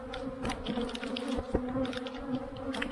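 Bees buzz inside a nucleus hive split off from an aggressive colony, making a steady, close, dense hum with scattered individual wingbeats and faint taps and knocks over the top.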